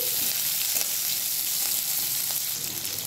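Onion and garlic cloves fry steadily in hot oil for a fish curry, a continuous close, loud sizzle with a few faint crackles and no talking.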